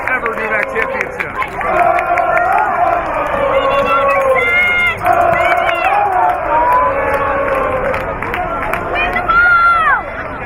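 Crowd at a women's soccer championship, the NEWMAC final between Clark and Emerson, cheering and chattering loudly and steadily throughout, with a play-by-play commentator talking over the noise.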